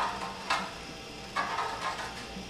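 Scraping and clattering as a burning InstaFire fire starter is stirred up, a few sharp rustling bursts against a low crackling background, fairly close and moderately quiet.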